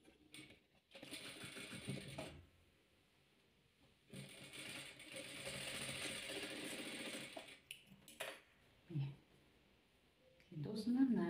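Sewing machine stitching pieces of a chessboard-pattern quilt, running in a few bursts of rapid mechanical clatter separated by quiet pauses, with small handling clicks between.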